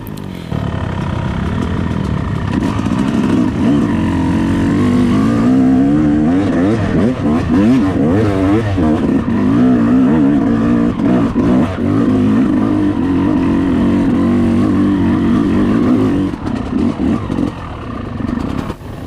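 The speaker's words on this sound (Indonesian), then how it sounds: "Saya sangat suka suara motor 2 tak" A two-stroke motorcycle engine revs hard and close, its buzzing tone rising and falling through repeated throttle blips, then settling into a steady, raspy, crackling drone; no voices.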